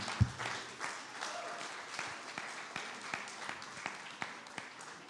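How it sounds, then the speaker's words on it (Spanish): A church congregation claps for the Lord after a prayer, with a sharp thump at the start and then a soft, spread-out patter of many hands, fairly faint and distant. "Denle un fuerte aplauso al Señor"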